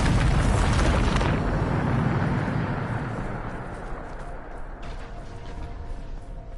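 Bombarda explosion spell in Hogwarts Legacy: a loud, close blast that rumbles and slowly fades over several seconds, with a smaller burst near the end.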